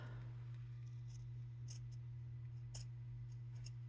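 Scissors snipping at shabby chic craft flowers, with a few soft, sharp cuts spread irregularly over a faint steady hum, quiet and close.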